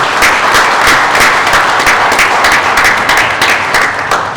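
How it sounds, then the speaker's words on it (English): Loud, sustained applause from an audience at a political event honouring a city council candidate, dense overlapping clapping holding steady throughout with no speech. "I think we should all give her a big round of applause."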